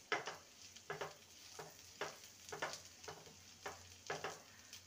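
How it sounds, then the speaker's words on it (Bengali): Chopped onion lightly frying for semai polao, a soft sizzle broken by evenly spaced stirring scrapes, about two a second, quiet and close. "পেঁয়াজটাকে হালকা ভেজে নেব"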